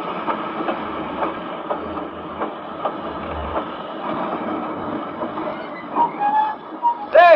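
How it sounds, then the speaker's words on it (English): A train pulls into a station with a steady rolling rumble and rhythmic wheel clicks, then rises to a couple of sharp metallic squeals as the brakes bite at the end. "That train's perfectly on time."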